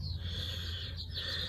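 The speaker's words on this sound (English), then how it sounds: "Are you listening to the birds?" Birds sing in a garden, high chirping calls coming and going over a steady low background rumble, moderately faint and without talk.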